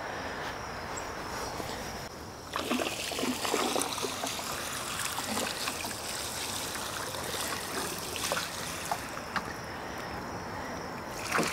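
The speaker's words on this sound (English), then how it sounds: "Now, a good watering is a must." Water pours onto the soil around a newly planted rose in a garden, a continuous splashing trickle that picks up after a couple of seconds and runs steadily, close by, with no talk.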